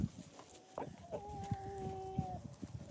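Chickens on pasture, mixed young chicks and larger birds, giving soft clucks and a high drawn-out peep amid quiet outdoor ambience.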